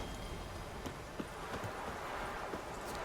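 A horse's hooves clip-clop at a steady trot in The Witcher 3, a rhythmic patter of close, moderately loud hoofbeats on a road, with no voices over it.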